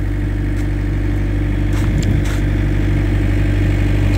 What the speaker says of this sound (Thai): เครื่องปั่นไฟทำงานแล้วครับ